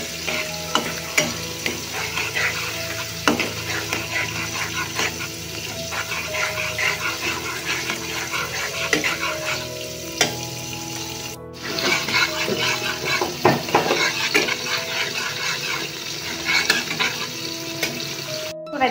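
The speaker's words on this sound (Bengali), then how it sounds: "মশলাটা আমি অল্প কষিয়ে নিয়েছি, মশলা থেকে অয়েল বেরিয়ে এসেছে" Spice paste with coriander powder frying in oil for a Bengali prawn curry, a loud continuous sizzle with scraping and stirring strokes throughout and a brief drop near the middle.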